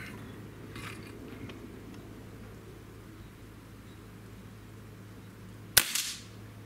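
A single sharp crack from a Beeman Chief II PCP air rifle firing, near and loud, with a brief decay after the shot against quiet outdoor background.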